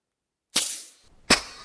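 A homemade grappling hook air cannon fires outdoors with two sharp, loud bursts about three-quarters of a second apart, each a hard pop with a short hissing decay.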